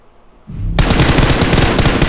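Rapid automatic gunfire in the battle royale game PUBG Mobile, a quiet lead-in giving way to a loud, dense, sustained burst of shots that fills the rest of the moment.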